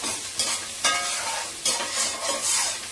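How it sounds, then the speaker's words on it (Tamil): Onions, green chilies, mint, coriander and tomato sauté in a pan, a close hiss of frying broken by several scraping stirs, with no voices. "அப்படியே வதங்கிட்டே இருக்கட்டும்"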